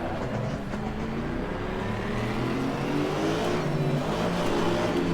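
Race car engine in Assetto Corsa Competizione, a continuous loud droning roar with shifting harmonic tones as the car changes into second gear, no voices.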